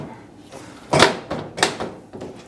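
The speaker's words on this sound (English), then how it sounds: "Our door goes back on, which is super simple." A Whirlpool gas oven door is set back onto its hinges, giving a loud metallic clunk followed by a few lighter knocks and rattles as it settles into place.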